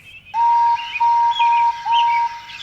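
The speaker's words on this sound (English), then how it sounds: "Yes, I am, whistled Henry" A locomotive whistle sounds in a narrated railway story, giving three or four loud, clear, steady toots in quick succession over a faint low rumble.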